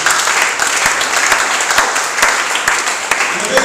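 A church congregation applauding during a teaching and prayer service, a dense, loud wash of clapping from many hands that carries on steadily for the whole stretch, with voices mixed into the crowd.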